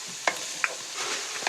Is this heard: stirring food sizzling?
yes